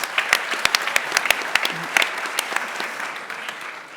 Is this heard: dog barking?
no